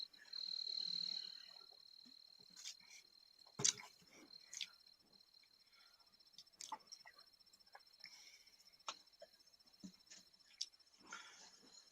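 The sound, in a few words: crickets chirping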